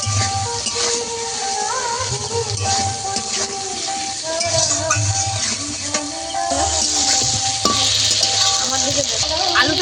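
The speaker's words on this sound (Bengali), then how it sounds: "টমেটো আদা আলু একসঙ্গে ভালো করে ভাজবো আমি" Tomato, ginger and potato frying together in a pan, a loud steady sizzle under repeated stirring and scraping, with occasional clinks of metal and a faint voice now and then.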